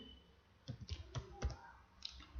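Typing a MySQL select query on a computer keyboard: a few soft, scattered keystroke clicks in short clusters, quiet and close, with no voices.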